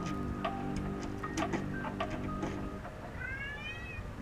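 A house cat meows softly near the end, preceded by faint ticking and clicking sounds over a low steady background hum; no voices.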